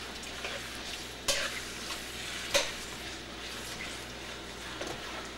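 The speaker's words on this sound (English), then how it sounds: "Add the onions, keep stirring vigorously." Onions stir-fried in a pan, stirred vigorously: a steady close sizzle with scraping and clatter from the stirring, sharp utensil knocks near 1.3 and 2.6 seconds, no voices.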